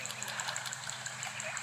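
Clear brook water runs in a steady, close-up trickling and gurgling wash, continuous throughout with a faint rhythmic pulsing and no voices.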